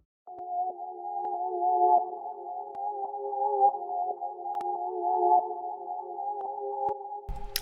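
Reversed low-sample-rate melody made in Edison within FL Studio, a dull, muffled tone line with swelling backward note attacks, steady and moderately quiet as background texture, ending in a brief low rumble, no voices.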